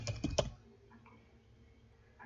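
A few quick keystrokes on a computer keyboard while a file name is entered, a short close burst of clicks at the start and then near silence.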